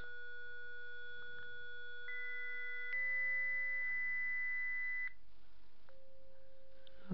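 Pure sine tones from a telephone signal generator hold steady and step between pitches, some layered together, a clean electronic sequence with a soft background hiss and no talk.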